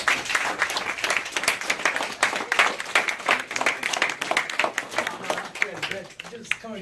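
A church audience claps in a big round of applause for guest speaker Abe Cruz, dense steady clapping sustained throughout with crowd voices mixed in, fading slightly at the end.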